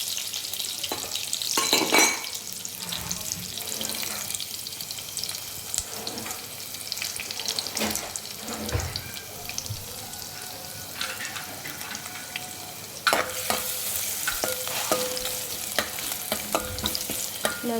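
Garlic cloves frying in a pan give a steady sizzle throughout, with a spoon stirring and scraping at intervals and several sharper clinks and bursts of spatter.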